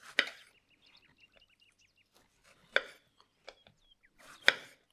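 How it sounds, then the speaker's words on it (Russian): Three sharp knife chops through strawberries on a cutting board, spaced a couple of seconds apart, with faint birdsong chirping quietly in between. "а мы с вами клубнику нарезаем"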